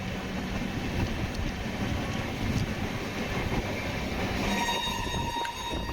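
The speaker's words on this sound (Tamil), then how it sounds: "நம்ம பயணம் பண்ற இந்த ராமேஸ்வரம் ட்ரெயின் சென்னையில இருந்து ஆப்ரேட் பண்ற 3வது ட்ரெயினுங்க" The Tambaram to Rameswaram Express rolls along steadily, a continuous rumbling rattle of rail cars with faint clatter and a brief higher tone near the end.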